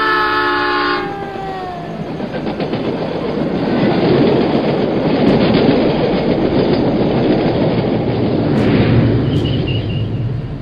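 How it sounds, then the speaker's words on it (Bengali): A mail train roars past at night as a story sound effect, opening with a horn blast, then a loud rumbling rush of wheels and carriages building and sustaining close by, with higher squeals near the end. "দূর থেকে অন্ধকার ভেদ করে ছুটে আসছে মেল ট্রেন।"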